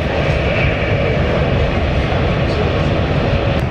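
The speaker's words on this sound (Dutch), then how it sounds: "Want ik zit nu dus in de trein naar Roffa." Inside a moving train bound for Rotterdam, a loud, constant rumbling roar of wheels and carriage noise fills the whole stretch without letup or nearby speech.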